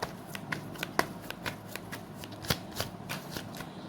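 Tarot cards shuffled and drawn by hand, a crisp series of soft flicks and slaps at an uneven rhythm, close and fairly quiet.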